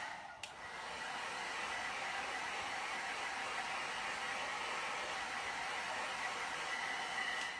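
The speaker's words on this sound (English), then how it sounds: "So can you see I'm using the hairdryer now? It's a lot noisier" A hair dryer switches on after a brief click and blows with a steady, loud whooshing hum that holds constant throughout.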